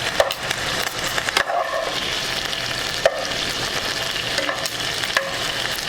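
Shrimp for shrimp scampi sizzles loudly in a pan, with a dense close crackle broken by a few sharp scraping or knocking hits.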